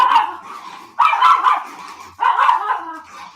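A dog barks loudly and close in three separate bursts, each a short cluster of sharp woofs with brief pauses between.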